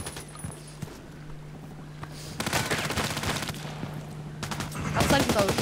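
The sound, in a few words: gunfire in the video game Contract Wars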